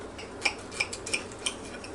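A knife and fork scrape and clink against a plate while cutting into a baked pork chop dressed with savory herbs. Sharp metallic ticks come in an uneven rhythm, close and fairly clear.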